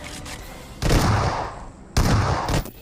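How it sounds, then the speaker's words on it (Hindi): Gunfire in a video game's 4.1 update, two loud, heavy shots about a second apart, each with a booming decay, over a steady game background. "जब यहाँ पे गन फायर करोगे ना तो पूरा एक रियलिस्टिक टच दिया है"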